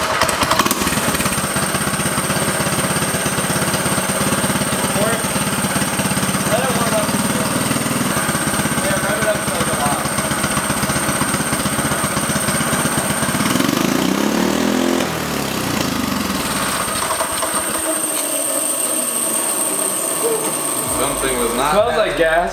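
Turbocharged go-kart engine running on test, a loud continuous mid-pitched buzzing drone with a steady high whine on top, close to the microphone, dipping briefly partway through and then winding down near the end.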